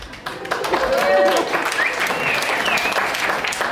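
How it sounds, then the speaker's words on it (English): Stand-up comedy audience at a live show breaking into applause, a dense wash of clapping that swells and holds for several seconds, with some voices mixed in. "By a round of applause, who's been cheated on before?"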